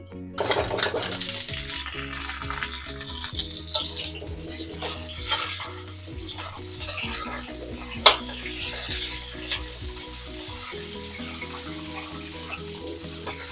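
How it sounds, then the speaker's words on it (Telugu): Small sambar onions (shallots) fry in a little oil in a pan for Telugu-style chutney, giving a steady close sizzle with frequent scraping and clinking from a stirring utensil against the pan and no talking. "ఇప్పుడు మళ్ళీ కొంచెం ఆయిల్ వేసుకొని ఉల్లిపాయలు బాగా వేపుకుందాం."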